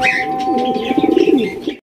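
A racer pigeon coos in a soft, low, rolling stream close by, with faint higher chirps over it and no talk.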